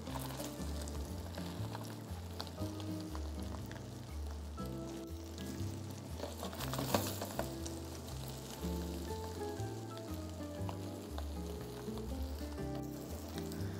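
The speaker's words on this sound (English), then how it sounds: "I will proceed to saute our sherry tomato." Cherry tomatoes sauté in a hot pan with a soft, continuous sizzle and crackle, fairly quiet, under background music.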